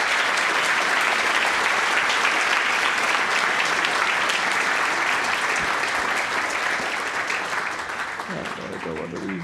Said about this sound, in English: And again, a huge round of applause to Daniel.